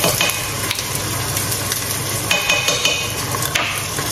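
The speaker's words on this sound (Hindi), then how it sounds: "बल्कि पहले मैं इसमें डालूँगी अदरक लहसुन का पेस्ट" Ginger garlic paste dropped into onions frying in a pan, producing a loud, continuous sizzle with sharp clinks and scrapes of a spoon against the pan at irregular intervals.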